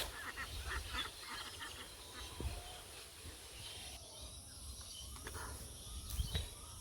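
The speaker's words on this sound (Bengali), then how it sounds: "অনেকটি হাঁস" A group of ducks calling in short honking bursts at moderate distance, faint against a steady outdoor background with insects chirping.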